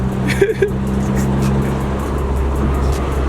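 Interior drone of a car on the move, a steady low engine and road rumble running throughout, with a couple of brief knocks near the start.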